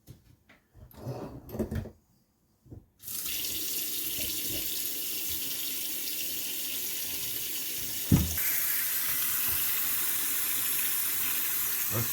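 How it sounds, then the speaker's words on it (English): After some clunks and handling noise, water from a tap fitted after a plumbing repair gushes into a sink in a steady close hiss that holds to the end, with one sharp knock midway. "Let's turn the water on, see what happens."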